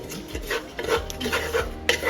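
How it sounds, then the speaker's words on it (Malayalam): A spatula scrapes and rubs through coconut roasting in a pan, several short, gritty strokes, close up with no voices. "നമ്മൾ കൂട്ടുകറിക്കുള്ള തേങ്ങ നന്നായിട്ട് വറുത്തുകൊണ്ടിരിക്കുകയാണ്"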